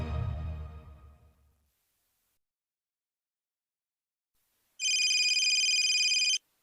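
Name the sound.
telephone ringing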